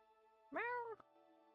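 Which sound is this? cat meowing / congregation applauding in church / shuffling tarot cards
cat meowing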